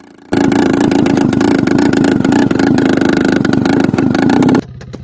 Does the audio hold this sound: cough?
no